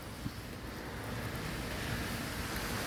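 Rainwater runs along a flooded road after a heavy night of rain in Canada, a steady, soft broadband wash with no distinct splashes and no voices.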